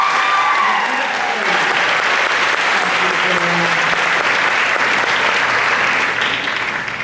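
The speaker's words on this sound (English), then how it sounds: "Would you guys please help me give one more round of applause?" An audience at a Dairy Festival pageant in a school auditorium gives a dense, sustained round of applause that fills the whole stretch and tapers slightly at the end.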